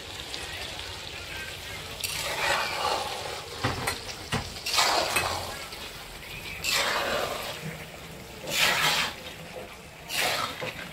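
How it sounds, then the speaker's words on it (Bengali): Fried potatoes are cooked with chicken in a pan for biryani, a steady low sizzle punctuated by several bursts of stirring and scraping, fairly close, with faint background voices. "আমি এখন ভেজে রাখা আলুগুলো চিকেনের মধ্যে দিয়ে দিলাম।"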